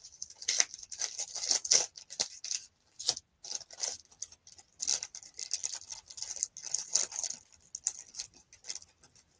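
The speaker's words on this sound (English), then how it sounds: "Again, I apologize for the crinkling." Packaging crinkles and crackles close by during cross-stitch crafting, in irregular bursts of sharp rustling with short pauses and no talking.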